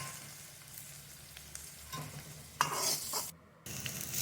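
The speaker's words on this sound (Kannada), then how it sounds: "ಸ್ವಲ್ಪ ಪುದೀನ, ಸ್ವಲ್ಪ ಸಾಂಬಾರು ಸೊಪ್ಪು ಹಾಕ್ಬಿಟ್ಟು ಮತ್ತೆ ನೀಟಾಗಿ ಫ್ರೈ ಮಾಡಿ" Chilli chicken fries in a hot pan with a steady sizzle while a spoon stirs and scrapes through it, closing with a short pause and a louder burst of frying.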